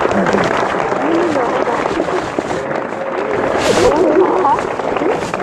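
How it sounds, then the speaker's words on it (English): Applause from a crowd at a school assembly, steady and fairly loud, with a babble of voices and cheering mixed into the clapping. "So give them a round of applause."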